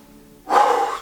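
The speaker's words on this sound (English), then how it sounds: "Sorry for the heavy breathing and things, but you know, I'm doing some exercise." One loud, close, heavy breath bursts out suddenly after a quiet moment, a forceful exhale from someone straining through pull-up exercise in a weight vest.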